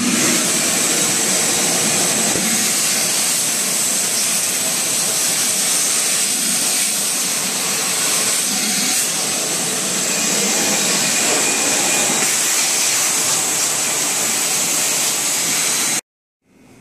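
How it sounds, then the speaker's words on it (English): A vacuum cleaner runs loud and constant as it cleans the gap between a tile floor and the wall, a steady roaring whine for about sixteen seconds before cutting off abruptly. "I'm going to clean it with a vacuum cleaner."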